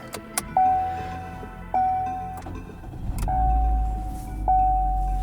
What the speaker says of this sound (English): Starts right up, gives it a nice little grumble.